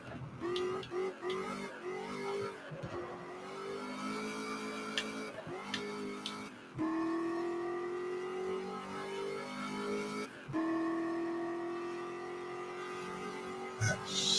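Race car engine in the driving game GT Legends, revving and accelerating steadily through a corner. The engine note climbs in pitch over several gear sections, with brief dips at the shifts and small clicks, and no voices.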